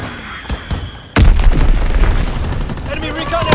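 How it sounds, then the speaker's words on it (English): In Call of Duty WWII, a bomb hits with a sudden, loud, close boom. Rumbling debris and battle noise follow it, and in-game voices sound around the blast. "Enemy bomb incoming. Get to cover."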